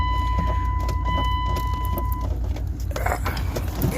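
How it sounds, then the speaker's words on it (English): A vehicle's electronic chime beeps steadily, then a pickup truck's engine, reluctant to start at first, cranks and catches, rumbling up close. "the truck didn't want to start for a second"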